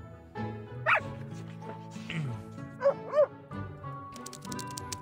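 A little bulldog in the game Reverse 1999 gives a few short, sharp barks and yips, two close together near the end, over a soft musical background.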